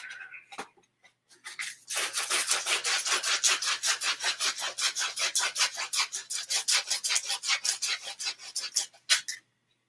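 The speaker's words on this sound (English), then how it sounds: "I need to sharpen that tip." Steady back-and-forth rasping of a file sharpening a tip, close and fairly loud, with rapid regular strokes running for about seven seconds after a few brief starts.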